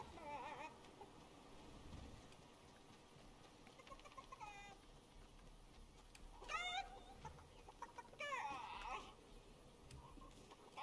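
A video game chicken clucks in short, squawky bursts over a low background of game sound and noise, with a couple of louder, sharper cries near the end.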